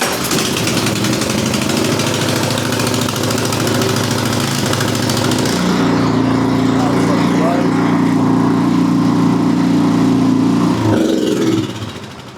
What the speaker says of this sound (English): So I'll give a few pulls here just to get it started.